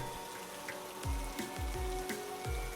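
Stormy rain in an animated tale, a dense steady hiss with scattered drips and a few low thumps rolling underneath.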